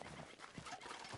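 Horse hooves clip-clopping in the Red Dead Redemption 2 video game, a brief, faint patter of steps under a steady wash of background game noise.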